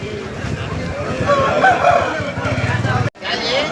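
Roosters crow at the Pileru hen market, where birds are sold every Sunday. A couple of drawn-out calls rise over dense crowd babble and clucking, with a brief dropout near the end.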